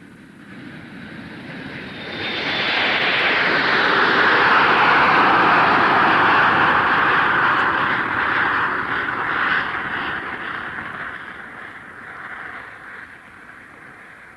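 Aircraft engines roar at London Airport, swelling in from a low hum to a broad, sustained whine before slowly easing off, heard alone from a moderate distance.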